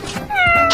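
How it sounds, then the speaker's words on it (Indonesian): A cat gives a single short, high meow, close and clear, in a rainy scene from the Sakura School Simulator game. "Kucing."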